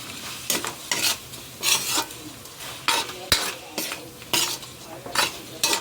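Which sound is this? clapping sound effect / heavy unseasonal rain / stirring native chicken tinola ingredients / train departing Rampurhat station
stirring native chicken tinola ingredients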